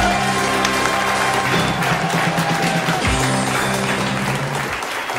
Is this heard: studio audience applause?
yes